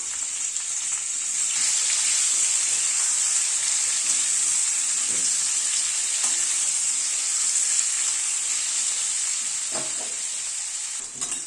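Chopped onion fries steadily in a pan for a thin chicken and vegetable curry, with a bright, even sizzle and a few soft scrapes and clinks of stirring throughout.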